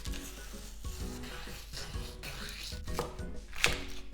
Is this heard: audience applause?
no